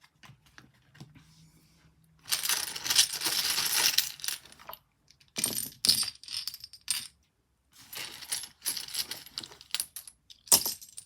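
Seashells gathered and handled during a card reading, clattering and clicking in short bursts with quiet gaps between, close and crisp, with no voices.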